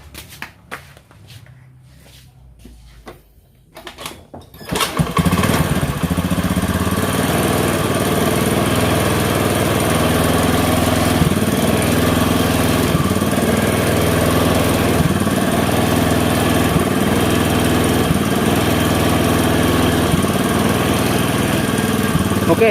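A carbureted Honda Beat motorcycle, with a weak battery, is kick-started and settles into a loud, steady engine run after a few quiet seconds of fumbling, its rhythmic idle continuing unbroken to the end.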